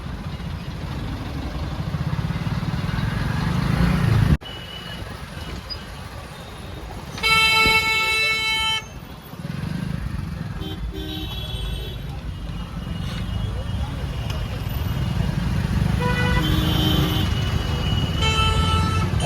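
A market-day traffic jam on a service road near Uruli, with car horns honking in long, loud toots twice and shorter beeps later over the steady rumble of idling and crawling vehicles.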